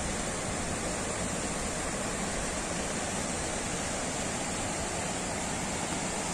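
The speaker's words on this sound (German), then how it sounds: "Dann hören wir das Rauschen des Wasserfalls." A waterfall at the Zillergrund reservoir in the Alps rushes in a steady, loud, unbroken roar that fills the whole stretch, with no speech.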